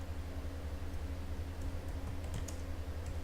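Quiet, steady typing on a computer keyboard, with light rapid key clicks over a low background hum and no voices.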